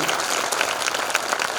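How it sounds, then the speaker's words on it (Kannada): A brief burst of loud, dense clapping from a crowd at a spiritual discourse in Danapur village, even and continuous throughout. "ಜೋರಾಗಿ ಚಪ್ಪಾಳೆ ತಟ್ಟಾನೆ"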